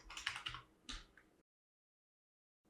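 Rapid clatter of computer keys being typed in quick bursts, close and clear, followed by a pause into silence before a faint final tap.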